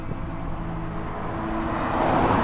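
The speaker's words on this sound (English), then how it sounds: "And cars are coming really fast across this bit." Cars rush past fast on a main road between Cheddar and Priddy, a steady loud roadway roar that swells toward the end as a vehicle comes close.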